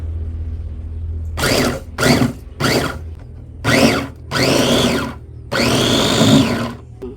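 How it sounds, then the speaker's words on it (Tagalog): A food processor chopping shrimp whirs in six short bursts of pulsing, some brief and some longer, loud and close, with a low hum between them. "Atin na pong ipo-food processor itong hipon."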